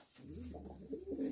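Hünkar pigeons coo in a loft, a soft low rolling murmur of several birds overlapping continuously, close and fairly quiet.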